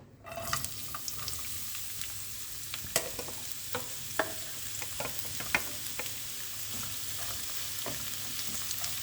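Thinly sliced onion sautéing lightly in a pan, a steady soft sizzle with scattered clicks and taps of stirring throughout, close and moderately loud, no voices.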